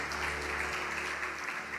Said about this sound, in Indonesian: Tepuk tangan yang paling meriah buat Tuhan Yesus.